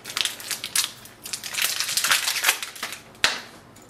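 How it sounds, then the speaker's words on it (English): Plastic packaging crinkling and crackling as ink bottles for an HP Smart Tank 5105 printer are pulled free, with a busy run of rustles and a sharp snap near the end. "Now take the ink out of the plastic packaging."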